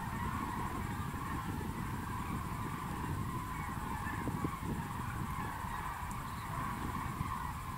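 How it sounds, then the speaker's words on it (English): A huge flock of common cranes (Grus grus) fills the air with a dense, continuous wash of distant honking calls, layered and unbroken, with no speech. "Cranes literally fill the sky."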